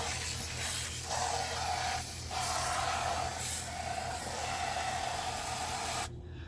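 A steady hiss of cold water spraying from a tap or hose against the side of a pot, with shifting bursts of spray and a low background hum.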